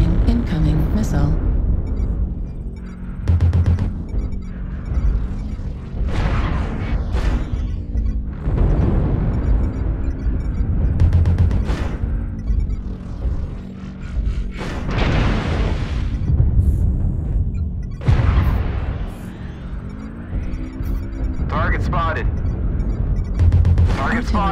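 Artillery strikes in an online combat video game land as repeated loud, deep booms and bursts, irregularly spaced across the clip, mixed with game sound effects and in-game voice alerts.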